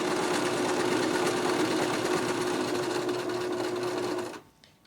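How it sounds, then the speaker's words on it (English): A sewing machine stitches in a steady, fast, whirring run for several seconds, loud and close, then stops abruptly. "We're going to put in a few stitches, and then we're going to hit the reverse button and go backwards."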